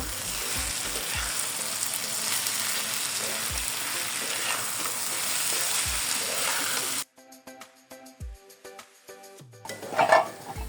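Vegetable bhaji frying in a pan sizzles loudly and steadily, with occasional knocks of a stirring utensil. It then drops abruptly to a quieter scene of light clinks and scrapes, with a brief louder rustle near the end.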